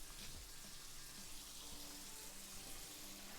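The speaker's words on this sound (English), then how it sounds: "Rinse off the porky bits." Tap water running steadily over pieces of pork being rinsed in a kitchen sink, a continuous soft splashing rush with no talking.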